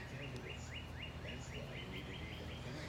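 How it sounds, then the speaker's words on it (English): Birds sing outdoors on a breezy day among blooming trees, a repeated short chirping phrase that is faint and distant over a steady wind rumble. "The birds are singing."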